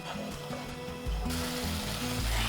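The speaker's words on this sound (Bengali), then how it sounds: "এরপরে এটাকে একটু সময় নিয়ে কষিয়ে নেব" Masala with tomato paste sizzling in oil as it is sautéed, a soft, steady hiss that grows a little louder partway through, with faint music underneath.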